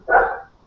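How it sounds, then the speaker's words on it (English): A single dog bark rings out close and loud, one short burst that fades within a second, with no voices around it. "Excuse me, that's my dog."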